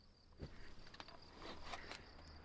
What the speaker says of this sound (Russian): Послушайте звук. Кузнечики громче.